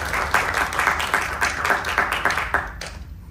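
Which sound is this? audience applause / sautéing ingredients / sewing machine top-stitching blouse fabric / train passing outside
audience applause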